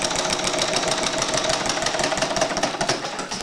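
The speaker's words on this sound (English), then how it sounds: "But that's an Atkinson differential engine." An Atkinson differential engine built by Dave Gingery runs steadily, its rapid, even mechanical chugging and knocking continuing close-up and loud without pause.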